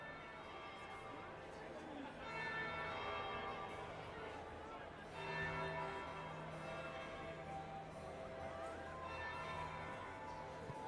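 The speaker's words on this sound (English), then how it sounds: "That would be the second bell." A church bell tolls in the video game Dragon Age Inquisition, its ringing tones sustained over a hall of murmuring crowd chatter, with a voice speaking alongside.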